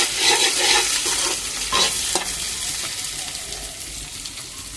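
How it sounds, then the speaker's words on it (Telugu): An egg fries with chilli powder, salt, turmeric and garam masala for fried rice, a loud close sizzle with scraping stirring strokes early on that settles into a steady hiss. "ఇది వేగిపోయినాయి కదా, చూడండి, బాగా గుడ్డు వేగిపోయింది"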